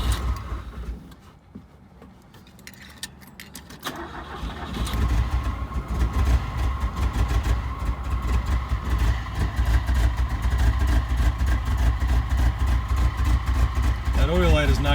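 Revived 1980 Fiat 124 engine catches after some cranking, then settles into a steady, somewhat rough running drone close by, with a person speaking over it.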